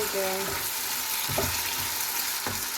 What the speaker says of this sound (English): the prawns are frying